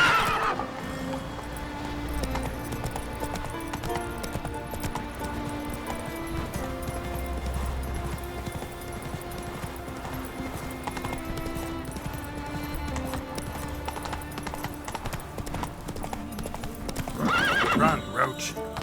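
A horse in The Witcher 3 video game gallops with a steady, rapid clip-clop of hooves under a game music score, and loud neighs come near the end.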